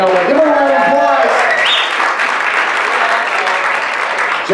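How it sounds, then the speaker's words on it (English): Guests at a wedding reception applaud the couple, loud sustained clapping and cheering from a close crowd that holds strong for several seconds, with a voice talking over the opening moment. "Give them a round of applause."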